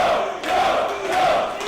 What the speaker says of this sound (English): can see the crowd who's cheering for Joe